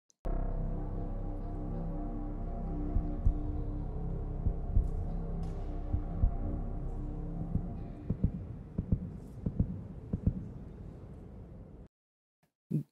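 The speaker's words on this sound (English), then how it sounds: "you hear the heartbeat." A deep, steady heartbeat thumps under a sustained low hum in a K-pop music video, evenly spaced throbs that grow more prominent toward the end before cutting off abruptly.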